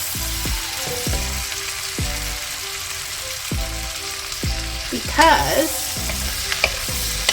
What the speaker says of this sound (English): the potatoes are gonna saute real quickly in that bacon grease and onions